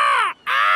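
Seagulls raid raspberries at a seaside garden in a cartoon, with two loud, harsh calls split by a brief gap, near and clear with no speech.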